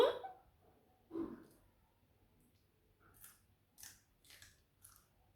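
Someone eats noodles in quiet surroundings: two soft, low bursts of chewing, then a series of faint, crisp mouth clicks and squishy bites spaced about half a second apart.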